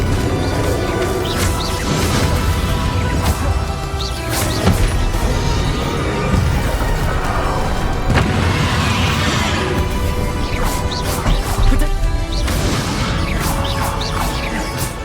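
Spell blasts in a Hogwarts Legacy duel, including Confringo, burst as loud, dense crashes and whooshing impacts one after another, with no let-up for the full length.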